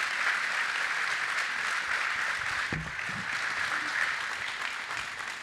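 Steady audience applause at a luncheon, a dense wash of clapping hands holding at an even, moderate level throughout with no talking over it.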